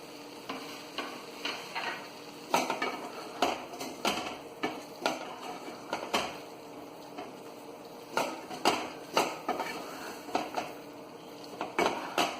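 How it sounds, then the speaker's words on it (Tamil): Fried cauliflower tossed and stirred in a metal pan for Dragon Gobi, with repeated sharp clinks and scrapes of a spatula against the pan at an irregular rhythm over a soft background sizzle, close and alone. "இந்த ஸ்டேஜில் இப்போ ஃப்ரை பண்ணி வச்சிருக்கிற காலிஃப்ளவரை போட்டு நல்லா கலந்து ஒரு 3 மினிட்ஸ்"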